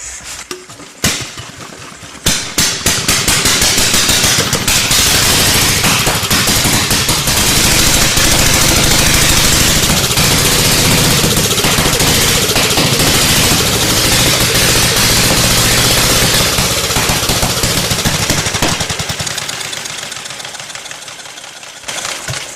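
An antique Indian board track racer motorcycle engine coughs, then catches and roars loudly, running at a rough, steady pounding beat for several seconds before cutting out abruptly.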